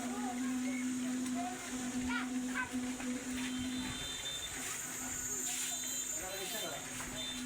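A head being shaved bald with electric clippers, a steady buzzing hum running continuously throughout, close and fairly loud, with people talking over it.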